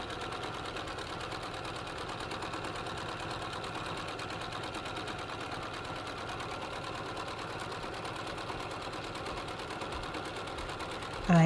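A Bernina domestic sewing machine stitches steadily through free motion quilting of flower designs, a continuous fast whirring run of needle strokes at close range that carries on without a break.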